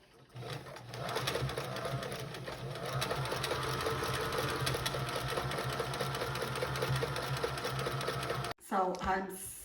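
A sewing machine runs steadily, double-stitching binding around the edge of a baby blanket, with a continuous whirring drone for most of the stretch before it stops abruptly, followed by a short burst of talk.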